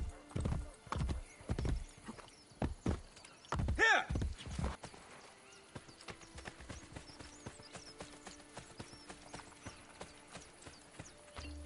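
Hooves clip-clop in steady rhythm as a horse trots in Assassin's Creed Brotherhood, with a whinny partway through and a brief shout over the hoofbeats, which then fade into quieter, more distant steps.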